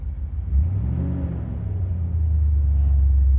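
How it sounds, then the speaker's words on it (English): A 1971 Chevrolet Corvette engine turns over and catches, settling into a deep, steady idle rumble that grows slightly louder and fuller toward the end, heard close with no talking. "We just started the car."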